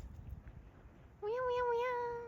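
A cat gives one drawn-out, clear meow close by, following some faint background noise.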